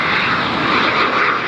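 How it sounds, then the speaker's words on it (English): An unmarked Gulfstream G5 private jet lands at Fort Lauderdale-Hollywood airport, its loud, steady engine roar filling the air at close range without a break. "Let's see how the unmarked G5 does here at Fort Lauderdale"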